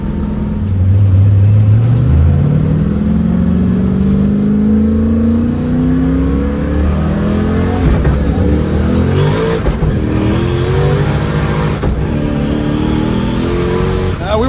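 A 1000 hp manual-transmission car's engine roars loudly nearby as it accelerates hard on a street, pitch climbing steadily, then shifting gears and pulling again with rough, throaty bursts, tires breaking loose.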